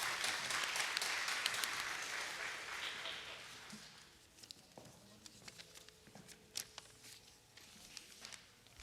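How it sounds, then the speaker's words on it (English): Audience applause in an auditorium after a Kuchipudi Rangapravesam dance debut, honoring the dance teacher; fairly faint steady clapping that fades away over several seconds, leaving scattered claps and room noise. "Let us give a big applause to Aruna Chandra."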